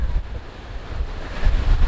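Strong seaside wind at Puerto del Carmen, Lanzarote, buffets the microphone in a loud, continuous low roar with gusting surges and a wash of surf beneath.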